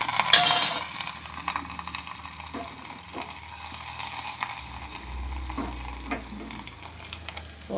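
Curry leaves sizzling in hot oil for Andhra-style pappu charu, a steady bright crackle and hiss with occasional pops and light stirring, close and continuous.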